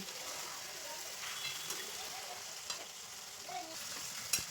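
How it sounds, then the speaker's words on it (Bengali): Marinated meat sizzling in a pan on top of fried onions for biryani, with a low steady hiss and occasional stirring scrapes and clinks. "পেঁয়াজটা এদিকে হয়ে যাবার পর ম্যারিনেট করা মাংসটা আমি দিয়ে দিলাম"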